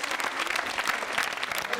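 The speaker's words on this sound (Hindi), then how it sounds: "प्रतीक्षा सिंह के लिए तालियां जोरों से बजाइए" Steady, dense audience applause at a Hindi university quiz show on consumer protection, a continuous wash of many hands clapping with no gaps.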